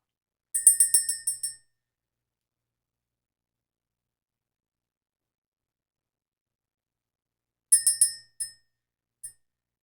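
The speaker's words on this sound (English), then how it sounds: "We're going to ring the bell." A small bell is rung in a quick cluster of about five bright, ringing strikes, followed by a long silence and then a second shorter burst of strikes, used to clear energy in a quiet room.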